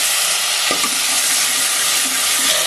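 Ginger, cumin, sesame seeds, green chili and tomato fry in hot oil with a loud, dense, continuous sizzle and a few faint stirring taps, close up and without talk.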